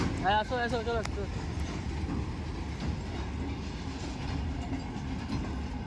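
A train rumbling past a railway level crossing, close and loud, a continuous low roar with rhythmic wheel clatter, and a brief voice-like call near the start.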